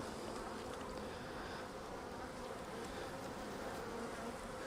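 Honeybees buzzing around an open hive during a spring split, a continuous dense drone that stays even and faint throughout.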